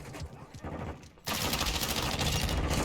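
Chimera rifle fire in Modern Warfare II multiplayer: after some muffled game noise, a sudden loud sustained automatic burst blasts continuously to the end.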